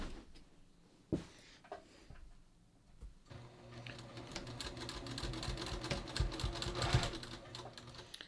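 Sewing machine stitching a knit-strip cowl neckline. A couple of sharp handling clicks come first, then a steady, quiet, rapid mechanical whir of stitching runs close by.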